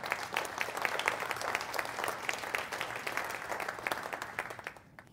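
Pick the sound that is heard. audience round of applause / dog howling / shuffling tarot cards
audience round of applause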